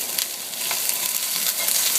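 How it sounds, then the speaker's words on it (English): Onion and celery sizzle steadily in a hot pan, a dense, continuous frying hiss with faint scrapes of stirring, close and fairly loud with no talk. "So just mixing that all together pretty good."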